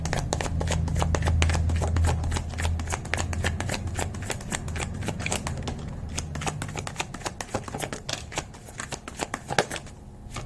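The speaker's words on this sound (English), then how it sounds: "I'm shuffling these this deck" A deck of tarot cards is shuffled by hand in a rapid, crisp riffling flutter that keeps going for several seconds, close and fairly loud, with no speech.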